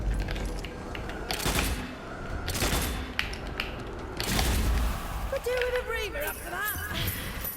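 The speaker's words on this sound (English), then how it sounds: "I'm using the sniper rifle now because I've run out of ammo" In the game Strange Brigade, sniper rifle gunfire sounds as several sharp, loud cracks spaced a second or two apart. A person talks over the shots, and other game effects chime near the end.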